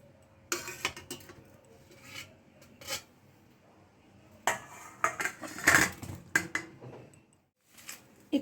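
A pot of boiled amla gooseberries is lifted off the stove, with scattered metallic clinks, scrapes and clatters of pan and utensils in irregular bursts separated by quiet gaps.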